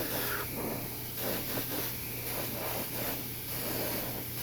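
An airbrush at high air pressure sprays wet paint onto an old towel during custom flash portrait work, giving a steady close hiss with slight surges and no talking.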